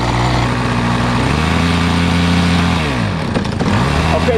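Megatech M46 nitro glow engine on a 61-inch model airplane idling low and steady, a loud close buzzing drone that briefly dips in pitch near the end before settling back.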